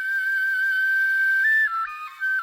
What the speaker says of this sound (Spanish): El suberotarra Michel Echecopart ha creado una réplica exacta de las flautas prehistóricas encontradas en Istúriz, realizadas con los huesos largos de las patas de buitres y quebrantahuesos del Pirineo.